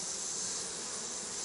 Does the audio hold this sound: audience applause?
no